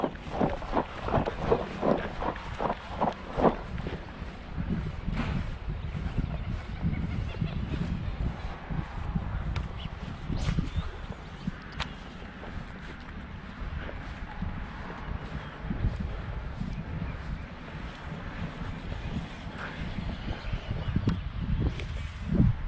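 Strong wind buffets the microphone outdoors on open water during a bass fishing trip, a constant low rumble with scattered knocks and splashes throughout, loud and close.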